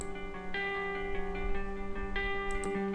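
Electric guitar from a band's song stem, panned left with EQ applied, ringing chords restruck a few times with steady sustain, played solo without voices.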